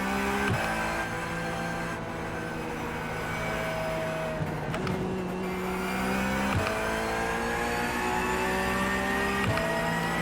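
Race car engine from a racing sim game, played on Sim Racing Pro SRP-GT pneumatic pedals, holding a steady loud drone with gear-change dips and brief shifts in pitch throughout, with no talking.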